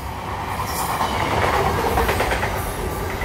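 An SCT freight train rolls steadily past with a continuous rumbling roar and faint rhythmic wheel clatter, fairly loud and close.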